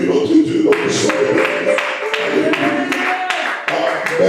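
A church congregation at a lively worship service claps together in an irregular patter of hands, mixed with voices and a tonal musical background, fairly loud and close throughout.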